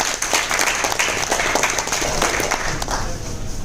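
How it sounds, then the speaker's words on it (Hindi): Loud, dense applause and clapping from an audience at a training seminar, honoring a woman, sustained evenly and close, with a faint murmur of the crowd underneath. "जोरदार तालियां मैडम के लिए।"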